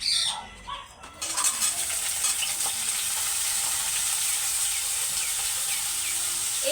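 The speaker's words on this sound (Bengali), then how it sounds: "আর এবার আমি কাঁঠালগুলোকে দিয়ে একটু ভেজে নেব" Pieces of young jackfruit hit hot oil in a pan with a sudden burst of sizzling after a brief quiet moment, then keep frying in a steady, close, crackling hiss with no talk.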